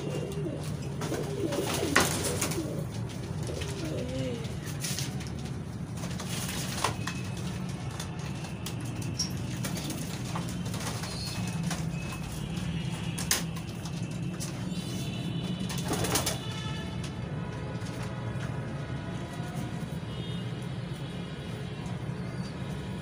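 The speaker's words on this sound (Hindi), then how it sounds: "ये बहुत ही उम्दा अकल वाले कबूतर हैं" Pigeons coo in low, soft repeated calls over a steady background hum, with occasional faint outdoor noises and distant traffic.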